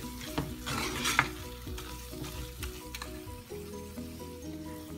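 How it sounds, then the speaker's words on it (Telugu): Chili powder and turmeric masala frying in a pan for prawn curry, a steady close sizzle with stirring scrapes and a few sharp clicks of the spoon against the pan, no talking. "అలాగే పసుపు 1/2 టీ స్పూన్ వేసుకొని 1-2 మినిట్స్ వేయించుకుందాము."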